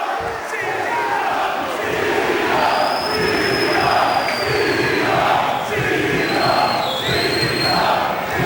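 Wrestling crowd at a CZW event roaring and chanting in a steady, loud wash of cheers and shouts, with whistles piercing through, continuous for the whole stretch.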